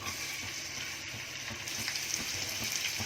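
Onions fry in hot oil in a pan for a Konkani fish thali, giving a steady, close hiss and crackle of sizzling throughout without pause.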